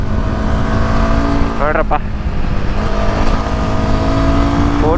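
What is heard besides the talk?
Royal Enfield Himalayan 450 motorcycle leaning into a bend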